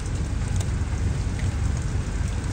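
Steady rain makes an even, unbroken hiss that holds at the same level throughout, with no voices.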